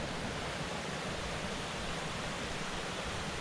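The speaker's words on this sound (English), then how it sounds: "There's another little waterfall." Small waterfall in a brook in a wooded glen, a soft continuous rush of falling water, even and steady, heard alone without voices.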